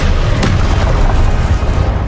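An Expelliarmus disarming spell cast in Hogwarts Legacy lands as one short, heavy boom over a thick, constant wash of battle noise.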